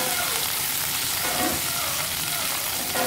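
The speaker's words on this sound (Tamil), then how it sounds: "இப்போ வந்து கொஞ்சம் வதக்கி எடுத்துக்கிட்டோன்னா அந்த கொழகொழப்பு எல்லாம் போயிடும்." Okra sautéing in oil in a pan makes a steady, close frying sizzle that fills the short stretch, with faint stirring and no voices.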